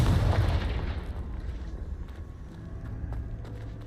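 A Confringo fire spell bursts in Hogwarts Legacy: a loud, booming blast at the start that decays into a rumbling tail, followed by softer crackles.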